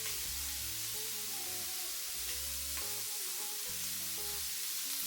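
Shrimp fry in a pan for Vietnamese banh khot, giving a constant close sizzle that stays loud and even throughout, with music playing underneath.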